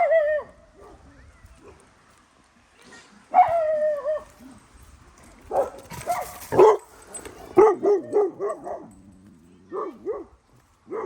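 A dog barks in a string of sharp, loud woofs and yips with brief whimpering tones, in short irregular bursts separated by quiet gaps, close by outdoors.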